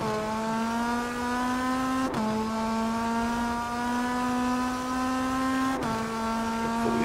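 Race car engines from the Rennsport racing video game, a Hyundai and an Audi, hum at a steady, sustained pitch with two brief shifts, with no talking over them.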